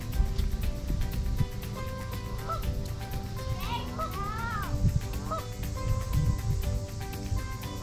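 Geese at a campsite give several nasal honks in a loose, irregular cluster mid-clip, moderately close, over a busy outdoor background of low rumble and scattered noise.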